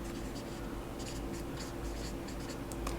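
Pen or marker writing during a lecture, a soft continuous scratching with short strokes repeating irregularly, faint and close, with no talking.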